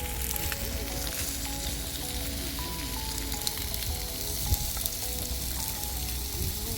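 A USDA grade steak sizzles steadily as it cooks American style on Memorial Day in California, a close, continuous crackling hiss with occasional louder pops.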